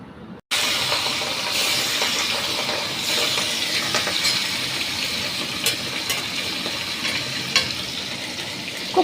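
Hilsa fish lightly frying in a pan of hot oil for a poppy-seed curry, giving a steady close sizzle and crackle that carries on throughout after a brief quiet start, with no voices.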